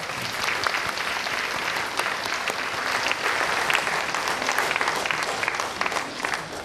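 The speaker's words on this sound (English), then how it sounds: "please give them another round of applause." Sustained applause from an audience at a vegan world-peace event fills the space evenly, dense clapping steady and fairly close for several seconds without a break.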